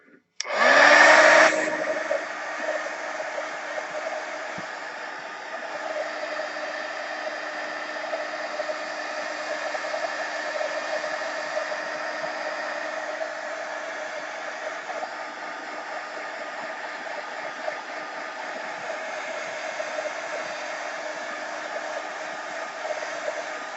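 A handheld hair dryer switches on and blows steadily at close range, a constant loud whooshing roar with a brief louder burst at the start, drying a craft piece just pressed down with a rag, with no talking.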